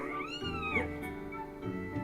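A small raccoon-like tanuki cat creature in the video game Zelda: Skyward Sword meows, a clear rising-then-falling mew followed by a softer second call, set against a quiet game backdrop.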